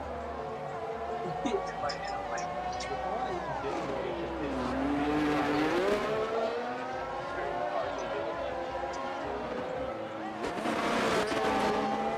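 Aston Martin race car engine in a racing video game during pre-season testing in Spain, a steady sustained drone with rising and falling pitch as it accelerates and shifts, under a commentator's continuous talk.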